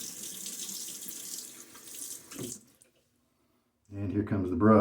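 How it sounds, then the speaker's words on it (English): Water runs from a tap into a bathroom sink and splashes as it's scooped onto the face before a shave, a steady hiss and splatter that stops abruptly, followed by someone speaking. "Put a little bit of water on my face here."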